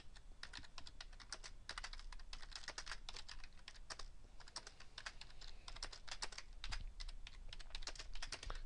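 Rapid typing on a computer keyboard, a dense and uneven run of key clicks that keeps going without a break, quiet and close, with no talk over it.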